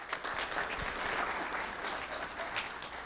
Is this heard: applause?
yes